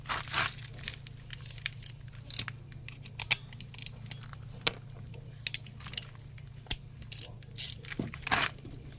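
A ratchet wrench clicks in quick sharp bursts while a transmission drain bolt is tightened during an oil change, the clicks scattered and fairly close over a steady low hum, with no talking.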